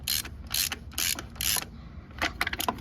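A ratchet clicks in short bursts while snugging a bolt on the PCV valve of a 2002–2006 Toyota Camry 2.4L, about six quick rapid ratcheting strokes, close and fairly quiet, with no talking.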